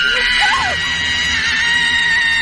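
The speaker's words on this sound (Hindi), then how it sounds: "असली चुड़ैल की थी वो चीख जो हमें राज फिल्म में सुनाई दी थी।" A witch's scream from the Bollywood horror film Raaz: a loud, sustained, wavering high wail that rises and falls in pitch over an eerie steady tone, with no talking.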